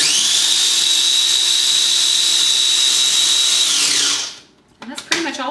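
A grinder reduces dried coconut to coconut flour with a steady, loud, high-pitched whir lasting about four seconds before spinning down, followed by light clatter and handling noises.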